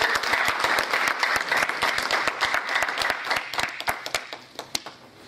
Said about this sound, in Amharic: እና ለልጆቹ አንድ ጊዜ ጭብጨባ ብታደርጉ